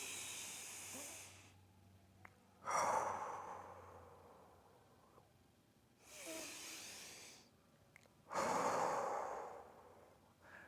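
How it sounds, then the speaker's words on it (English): Slow, deep breaths alternate in and out near the microphone, three long airy exhalations separated by quieter inhalations and pauses, with no talking over them. "I need you guys to take a deep breath in and then breathe out"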